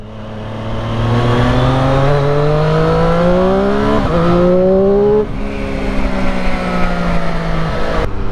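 A 2021 Triumph Street Triple 765 RS motorcycle revs hard past 6,000 rpm at night, its loud engine note climbing steadily, dipping briefly at a gear change, then rising again and easing off as it rides on.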